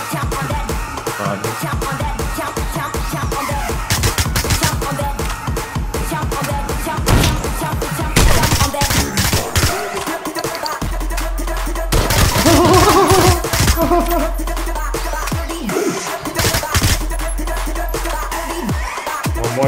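Rapid bursts of gunfire from the battle-royale shooter PUBG, repeated volleys and sharp impacts across the whole stretch, loud and busy with some faint background chatter.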